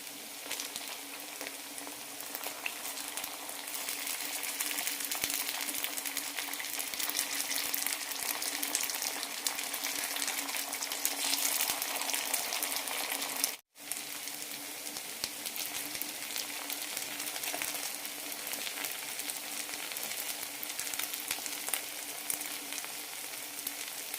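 Flattened rice appam frying in a pan over a medium flame gives a steady, close, bubbling sizzle that runs continuously with only a brief break midway.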